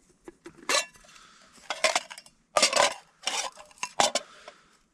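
Small metal spoon clinking against a camping cup, in scattered bursts of bright taps and scrapes over a quiet background, no talking.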